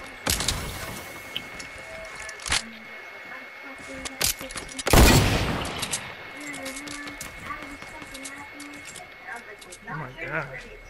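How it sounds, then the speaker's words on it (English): A hunting rifle fires in Fortnite, with one sharp, loud crack standing out among other scattered shots while players talk throughout. "I'm gonna try and hunting rifle him"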